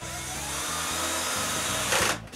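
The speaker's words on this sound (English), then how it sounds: "So I drill pocket holes on strips of plywood to make a frame." Power drill boring pocket holes in plywood strips for a frame: a loud, steady whirring drone with rhythmic pulsing, ending abruptly.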